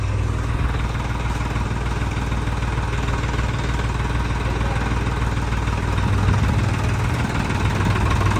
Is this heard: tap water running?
no